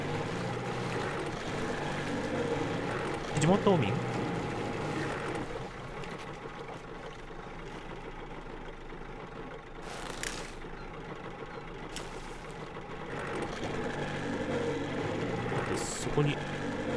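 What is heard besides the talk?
boat being driven in Metro Exodus video game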